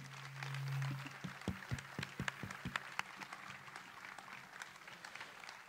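Applause at a live music event honouring a singer comes through faint and distant, as a loose scatter of individual claps with sharp, uneven hits after a brief sustained tone at the start.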